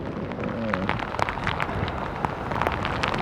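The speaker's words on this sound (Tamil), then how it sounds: "அப்படியே ரொம்ப மழை பெஞ்சிட்ருக்கு" Heavy rain pours outdoors beside a large running stream, a dense, steady roar of patter and splashes with scattered sharper drops close by.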